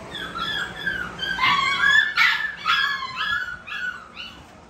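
A male dog barks and howls in drawn-out, wavering yelps and whines, close and loud, rising and falling over several seconds.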